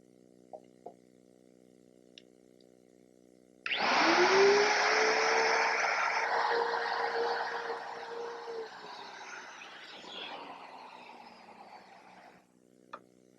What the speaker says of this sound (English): Now the power tool will be the router, and I've installed a collar, and then it has a straight cutting spiral bit to remove the material.